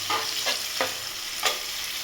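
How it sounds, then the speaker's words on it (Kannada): Ingredients for tomato gojju frying and sizzling in a pan, with a few sharp stirring scrapes cutting through a steady hiss, close and alone. "ಎರಡು ಒಟ್ಟಿ ಹಾಕಿ ಸ್ವಲ್ಪ ಹೀಗೆ ಫ್ರೈ ಮಾಡಬೇಕು"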